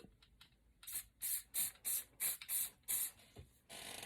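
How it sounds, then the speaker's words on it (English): A spray can hisses in a series of short bursts, about seven quick sprays in a row, close and fairly loud, ending in a longer continuous spray. "let's go ahead and spray it with some spray adhesive"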